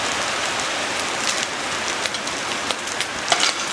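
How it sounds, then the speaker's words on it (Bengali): Rain falls outside in a continuous close hiss with a few sharper drop taps breaking through, steady and moderately loud with nobody talking. "দেখো বাইরে বৃষ্টি হচ্ছে।"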